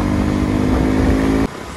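A motorcycle engine revs hard and loud up close with a steady, throaty roar, then drops off abruptly near the end.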